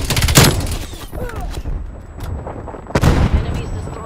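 Gunfire in Call of Duty: Black Ops Cold War destroys a sentry turret, heard as sharp, loud bursts of shots with booming impacts, one burst opening and another about three seconds later, with game noise between.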